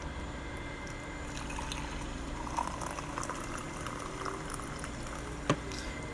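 Hot water poured from a kettle onto SlimRoast Optimum instant coffee, a steady close hissing trickle lasting several seconds with one brief sharp knock near the end, no voices.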